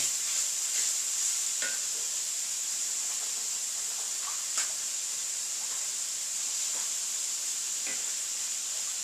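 Chopped Italian sausage sizzles in a hot pan, a steady hiss broken by occasional scrapes and taps of a utensil stirring.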